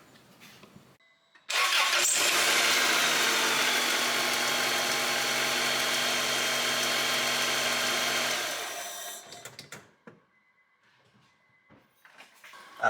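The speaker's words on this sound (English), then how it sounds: "replace the dipstick, and then start your vehicle" A car engine cranks and fires after an oil change, then runs at a loud, steady idle for several seconds before shutting off, followed by faint clicks and rustling nearby.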